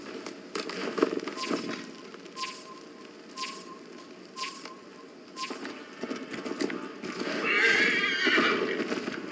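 Horse neighs and whinnies in the video game Assassin's Creed Valhalla, with clip-clopping hooves, several loud calls over a steady outdoor bed and a longer whinny near the end.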